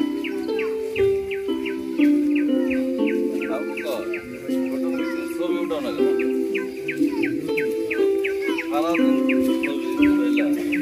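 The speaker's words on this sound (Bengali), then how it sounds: "পাখির কিচিরমিচির শব্দ শুনতে শুনতে আমরা রাস্তায় চলতে লাগলাম।" Birds chirp and call repeatedly in the Jamtala area of the Sundarban mangrove forest, bright twittering notes continuing steadily over a dense layer of forest insects and other background sound.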